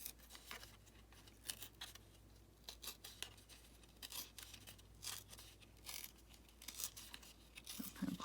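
Paper is torn by hand around a small bohemian lady figure on a craft tag, a series of short crisp rips and rustles, near and fairly quiet with brief pauses between pulls.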